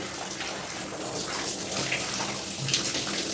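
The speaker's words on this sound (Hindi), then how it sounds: "आपको दिख रहा है 2 टैप चली हुई है" Two household taps run steadily during hand-washing of clothes, a continuous broadband splash and gush of water filling a tub, fairly close and alone without talk.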